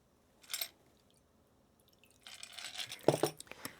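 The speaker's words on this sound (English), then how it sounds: "And we just pour it in." A Manhattan cocktail pours briefly into a cocktail glass, with a wet splash and a couple of clinks near the end.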